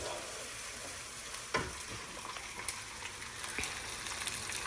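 Chopped onion frying in a pan and being stirred, a steady close sizzle with a few scraping knocks from the spoon, no talking over it.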